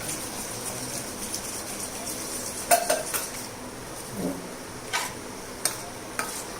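Onions fry in oil in a pan while being stirred, with a low sizzle under intermittent clinks and scrapes of a utensil against the pan, close up and moderately loud.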